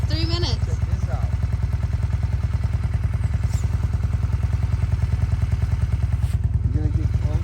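A Honda motorcycle engine, rigged as a ski tow rope, runs at a steady, rapid, thumping idle close to the microphone throughout. Voices speak faintly over the engine.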